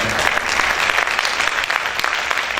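Loud, dense applause from a church congregation fills the room, many hands clapping continuously and close, with faint voices mixed in.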